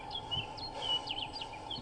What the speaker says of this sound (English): there are bird calls